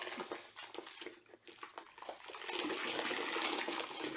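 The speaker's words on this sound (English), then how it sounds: "So I'm dunking the mitt into the rinse bucket." A wash mitt plunged into a rinse bucket of water while hand washing a Porsche 997.2: close splashing and sloshing, then a steadier watery swirl and trickle, fairly soft, no voices.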